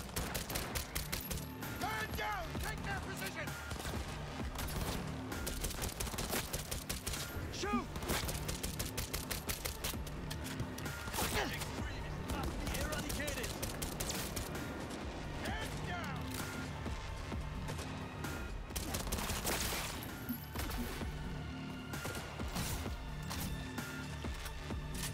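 Pistol gunfire in Cyberpunk 2077, a dense run of sharp cracks and mechanical clatter packed over busy game sound and music, loud throughout, with a voice talking over it.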